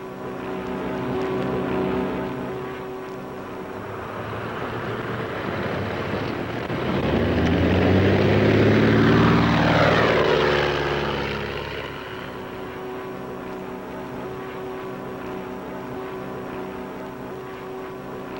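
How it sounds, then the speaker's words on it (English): A propeller airplane makes a landing approach, its engine drone swelling loud and near with pitch sweeps as it passes, then easing back to a steady hum under wind noise on the microphone. "The first time Stu told her to go down for a landing"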